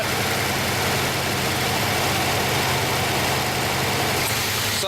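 An engine with solid lifters idles steadily close by, giving a constant mechanical rattle and ticking over a low hum throughout.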